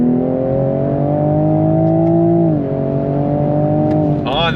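A 2026 Toyota Supra Mk5 Final Edition accelerates on throttle along twisty roads, a loud steady engine drone rising slightly, then a shift and a brief whine at the end.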